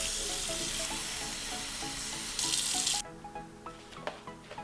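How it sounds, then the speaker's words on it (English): Cold tap water runs into a pot in a home kitchen, a steady gushing rush that cuts off partway through, followed by faint clinks and handling sounds. "I'm gonna be filling up this pot with some cold water."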